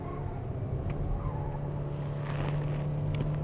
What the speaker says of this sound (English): I'm going to shift down to second, and we're going to hold second going up this hill.